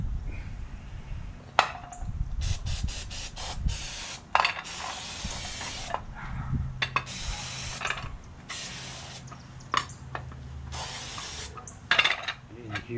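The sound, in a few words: spraying carb cleaner aerosol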